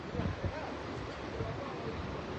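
The swollen Modi river rushes past in a continuous broad roar of churning water, steady and fairly quiet, with wind buffeting the microphone.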